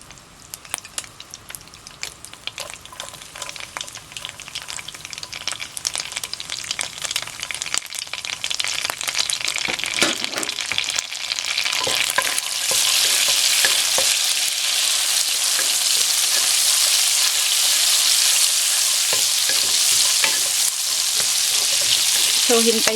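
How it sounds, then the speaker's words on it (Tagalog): Garlic frying in a pan of butter and a little olive oil, a steady crackling sizzle that grows louder and denser about halfway through, with occasional stirring scrapes and no talking. "Then ilalagay po natin itong garlic."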